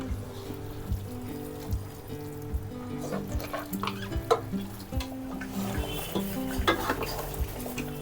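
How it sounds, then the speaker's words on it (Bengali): Marinated beef kala bhuna frying in a pot, with a spoon stirring and scraping repeatedly against the metal over a low sizzle, close and busy throughout. "বিফ কালো ভুনা কষানো হচ্ছে, এটা সময় নিয়ে ধীরে ধীরে করতে হবে।"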